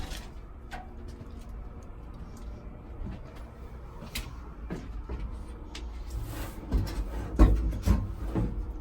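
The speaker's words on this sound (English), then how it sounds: "Okay, let's shut the doors" Doors being shut inside an abandoned train carriage: scattered wooden knocks, creaks and rubbing scrapes build to a few heavier thuds and clunks near the end, with no speech.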